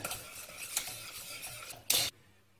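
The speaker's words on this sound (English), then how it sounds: "Just add that into the sauce and stir that in." A spoon stirs smoked haddock soufflé sauce in a pan, with soft repeated scraping and a low simmer, ending in a brief louder clatter against the pan before falling quiet.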